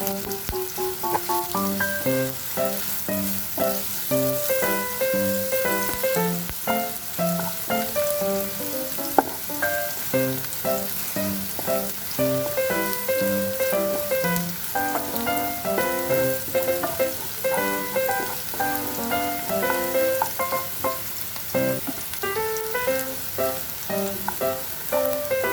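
Green chili slices frying in oil for a mashed pointed-gourd dish, a loud continuous sizzle and crackle with stirring scrapes, close and sustained throughout.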